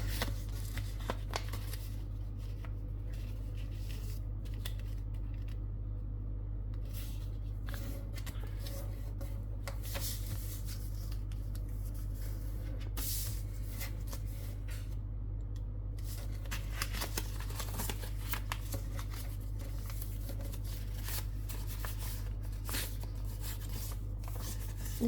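Paper being creased and folded by hand for an origami Spectre fighter jet: close, quiet rustles and crisp crinkling bursts scattered over a low steady hum, no talk.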